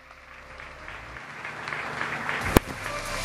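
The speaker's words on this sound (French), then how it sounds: "On célèbre, on peut continuer à applaudir." Audience applause at the closing ceremony of an investment forum in Casablanca swells gradually from faint to fuller clapping, with one sharp loud crack partway through.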